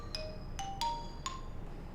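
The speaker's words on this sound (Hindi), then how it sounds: "तुम्हारा फोन बज रहा है" A bright electronic ringtone plays a quick sequence of four chiming tones, clear and fairly close, over a quiet background.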